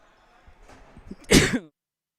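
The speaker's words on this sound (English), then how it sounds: "I tried to mute before the sneeze came out, but sometimes it just happens." A single sharp sneeze, preceded by a short intake of breath, bursts out close and loud from a lacrosse game commentator, then cuts to silence.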